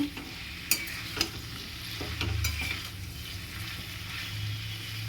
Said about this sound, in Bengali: এটা নিয়ে একটুখানি নাড়াচাড়া করে একদম ভাজা ভাজা করে পোস্তটা করব